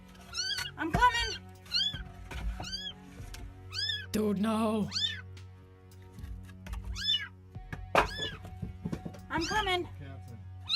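Stranded kittens meow repeatedly in rising, plaintive cries, fairly close and clear, while a person speaks to them intermittently over a low steady hum.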